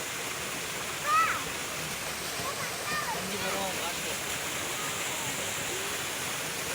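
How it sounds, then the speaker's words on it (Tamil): Water pouring down from an overflowing dam in Kerala rushes and roars continuously, a dense steady wash of falling water with a brief faint voice near the start. "டேம் நிறைஞ்சு வருது தண்ணி எங்கேருந்து வருது பாருங்க மேலேருந்து வருது"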